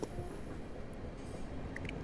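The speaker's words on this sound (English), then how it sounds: "Another train up to Waterloo, just departing." A Class 455 electric train on the Portsmouth Direct Line in Train Simulator 2022, heading for Waterloo in winter, gives a brief, steady low rumble of wheels and running gear with faint squeals above it.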